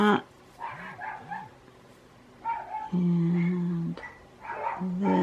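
Several neighborhood dogs bark in short, excited bursts after a garage door opens, the yaps and howl-like calls coming in clusters at moderate distance, with a person speaking intermittently in between.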